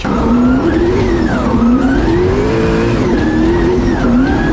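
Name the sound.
drift car skidding with two wheels off the track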